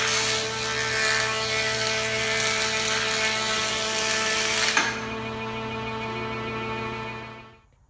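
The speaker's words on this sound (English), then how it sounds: "I'm using it as a thickness planer to some degree here rather than just a joiner" A woodworking jointer runs steadily with a board fed through it as a thickness planer on a small piece, a loud sustained whine and hum that drops in pitch after the cut ends and then winds down to silence.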